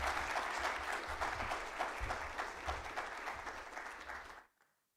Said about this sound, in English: please give our speaker a round of applause here